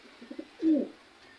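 A single short, soft pigeon coo sounds once, faint and brief against quiet background.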